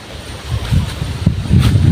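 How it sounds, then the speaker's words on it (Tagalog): Strong wind rushes outdoors under a gloomy, overcast sky, a broad continuous roar that swells and buffets the microphone, with no voices. "saka malakas na po yung hangin."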